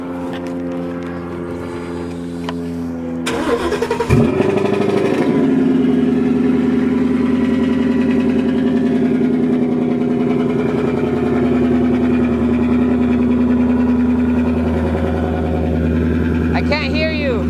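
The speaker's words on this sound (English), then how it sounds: "about to see how his car sounds with the Bbk long tubes" Supercharged S550 Ford Mustang fitted with BBK long tube headers cold-starts with a sharp crank and bark, then settles into a loud, steady, rumbling high idle that holds for several seconds, with people talking faintly nearby.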